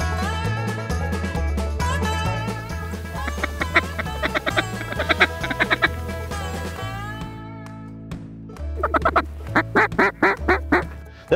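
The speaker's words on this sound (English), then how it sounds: "there was literally ducks and geese everywhere" Ducks quack and geese honk in a busy flock during a Canada waterfowl hunt, with loud overlapping calls running through most of the stretch and a dense burst of quacking near the end.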